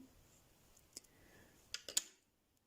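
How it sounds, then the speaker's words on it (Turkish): Small scissors snip excess thread on needle lace work, a few quiet sharp clicks close to the microphone, with two quick cuts near the end before silence. "Şuradaki fazla ipimi dikkatli şekilde kesiyorum."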